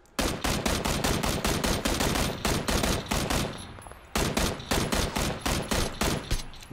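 Rapid automatic gunfire in the battle royale game PUBG, loud sustained bursts of shots with a short lull midway.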